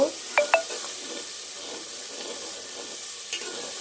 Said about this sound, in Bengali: আমার চিকেন কষাটা আমি মশলাটা খুব সুন্দর করে কষিয়ে নেব